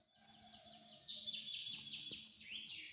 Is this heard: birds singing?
yes